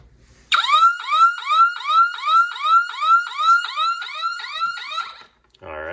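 A loud electronic alarm siren from a homemade smart-home alarm wails in rapid repeating upward sweeps, about a dozen cycles, then cuts off abruptly into a brief low rumble.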